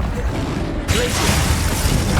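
The Glacius ice spell is cast in Hogwarts Legacy, a sudden bright crackling burst that switches on partway through and carries on as a loud, dense, icy hiss over rumbling game noise.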